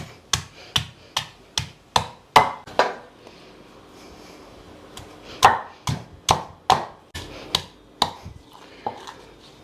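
Sharp, loud thuds of mango pieces being pounded in a small stone mortar while making pickle, coming in quick rhythmic bursts with a short pause in the middle, no talking.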